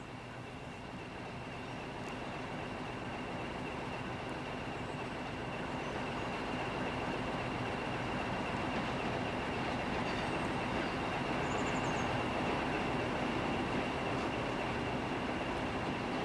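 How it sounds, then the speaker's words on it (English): A 1500 class Alco diesel locomotive hauls a local passenger train from Barreiro toward Setúbal, its engine drone and rolling rumble building steadily louder as it approaches, with a faint high squeal near the end. "Approaching Pinal Nova from the west is a 1500 class Alco from Barreiro with a local service for Setúbal"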